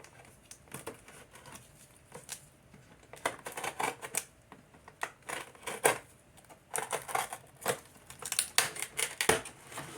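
GI Joe Classified Hasbro action figure packaging being taken apart by hand, with tags pulled off: close, continuous crinkling, tearing and plastic rustling in uneven bursts.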